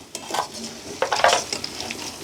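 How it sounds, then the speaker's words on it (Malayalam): Cauliflower deep frying for chilli gobi, with a steady close sizzle of hot oil and a few sharp scraping knocks as a ladle stirs and lifts the pieces, no talk. "ഇത് നമ്മുടെ ഫസ്റ്റത്തെ വറുത്ത് കോരുന്നു കേട്ടാ."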